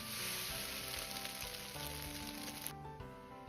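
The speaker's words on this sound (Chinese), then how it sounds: "翻炒至表面微黄，然后盛出，装入盘中" Fennel and eggs stir-fried in a wok, a steady, busy sizzle of hot oil that holds throughout with faint scraping stirs underneath.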